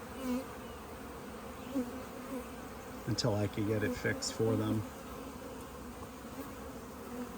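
Honey bees hum in a continuous low drone close by at a hive being split, while someone talks briefly over the buzzing.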